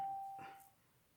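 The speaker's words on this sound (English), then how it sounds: "I just rang somebody's doorbell." A doorbell rung in a video game chimes once as a single short faint tone against a quiet background, without any talking.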